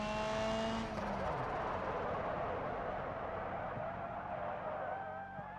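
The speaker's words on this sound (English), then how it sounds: "these tires make so much noise" Car tires screeching loudly in a racing video game, one long skid squeal that fades into a sustained engine roar, with no talking over it.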